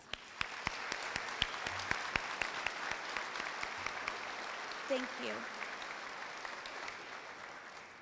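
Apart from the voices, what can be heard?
audience applause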